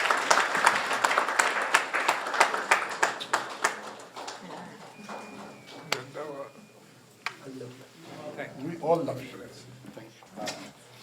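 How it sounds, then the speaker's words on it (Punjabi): An audience gives a lively round of applause for Iqbal Mahal that fades after a few seconds, then someone talks over the last scattered claps. "ਬਹੁਤ ਜ਼ੋਰਦਾਰ ਤਾਲੀਆਂ ਇਕਬਾਲ ਮਾਹਲ ਸਾਹਿਬ।"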